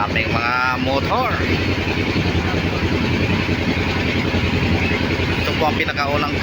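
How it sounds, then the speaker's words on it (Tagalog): Many motorcycles ride across a bridge on Mactan, their engines forming a loud, continuous drone with passing revs rising and falling nearby. "Yun, daming mga motor."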